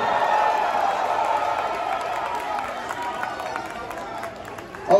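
A concert crowd at a metal show at The Masquerade in Atlanta cheers and claps in a broad sustained roar that slowly fades, with a louder burst near the end.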